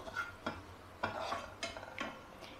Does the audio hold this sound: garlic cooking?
yes